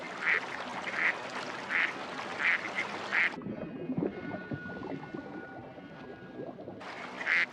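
Ducks quack in a rhythmic series of loud calls, pause amid splashing water, then one more quack at the end.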